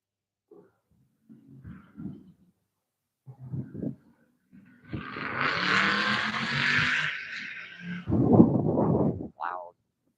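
A car with a loud muffler roars past near a lake, a broad engine rumble that swells over several seconds and then fades, followed by brief voices.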